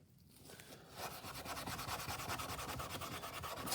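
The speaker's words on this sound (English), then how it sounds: "It's coming right off with the steel wool and the 50/50" Wet steel wool soaked in a 50/50 cleaning mix scrubs gunk off a Craftsman hedge trimmer attachment for 1/4 inch drills, making a rapid, rhythmic rasping rub, close and steady throughout.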